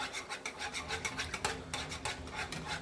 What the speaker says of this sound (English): Whisk it. I am whisking it.